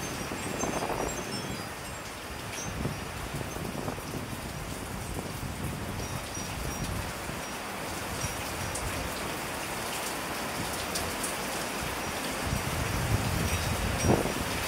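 Strong monsoon (habagat) wind and heavy rain, a steady, loud hiss of rainfall pounding surfaces with gusts buffeting the microphone, continuous throughout with no talk.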